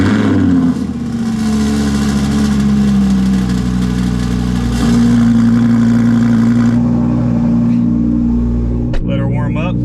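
An Audi R8 engine roars through a cold start, with a loud, steady, high-idle drone and shifting tones as it settles. A sharp change near the end leads into a short burst of speech.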